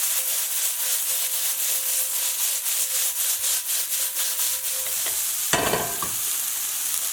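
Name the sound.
flipping sesame chicken pieces in a pan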